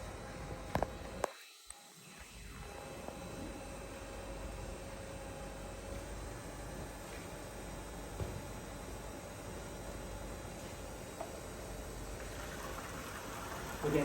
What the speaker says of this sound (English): And now we can see the water pump is running.